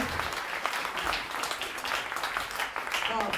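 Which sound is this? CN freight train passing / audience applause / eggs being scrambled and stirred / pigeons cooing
audience applause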